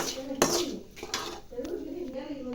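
Crisp dry puffed rice poured into a bowl and stirred for spicy kara pori, a few bright rattling clatters and scraping clinks of a spoon against the bowl, close and moderately loud.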